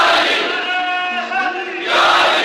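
A crowd at a religious gathering chants a slogan together in a loud, sustained unison shout, and the voices swell again at the end.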